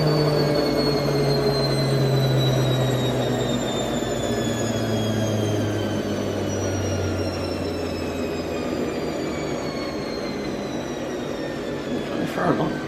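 A washing machine spins at 800 RPM, its loud motor whine sliding gradually downward in pitch over a rumbling drum as it winds down, with a brief knock near the end.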